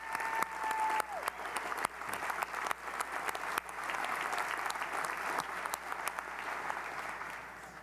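Audience applause for police and fire responders at an Atlantic City State of the City address, a steady sustained clapping from a large indoor crowd that holds at an even level for several seconds with a short tone heard early on.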